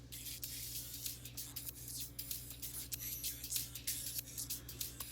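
Soloed track in an FL Studio mix, run through an exciter plugin that adds transients, harmonics and slight distortion, giving a bright, hissy, constant wash with a steady low drone underneath and no voice.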